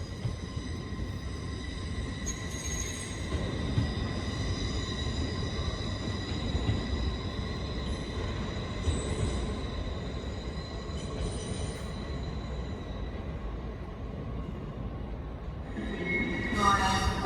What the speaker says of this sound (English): departing out now is the 1642 LNER service from London King's Cross to Edinburgh